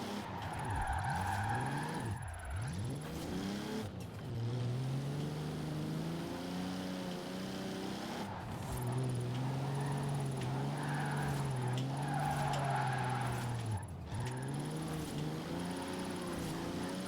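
A car in Forza Horizon 4 skidding and spinning out, with the engine revving up and down and tires squealing through repeated slides, loud and continuous.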